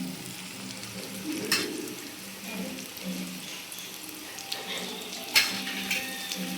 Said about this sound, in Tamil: இது எல்லாமே சேர்த்து இப்போ எண்ணெயில் பொரிஞ்சிக்கிட்டு இருக்குது.